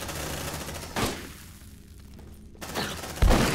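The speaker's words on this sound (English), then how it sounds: "Shotgun!" Shotgun blasts boom in the sci-fi combat game Aliens: Dark Descent, several heavy shots spaced across a few seconds with a rumbling gunfire backdrop between them.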